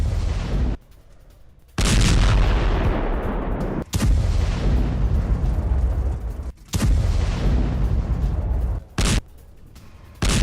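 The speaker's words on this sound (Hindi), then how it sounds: "हमास के वेपन डिपो पर आईडीएफ के एयर स्ट्राइक विद वीडियो" Heavy explosions from an air strike on a weapons depot boom in repeated long, loud roaring blasts separated by brief quiet gaps.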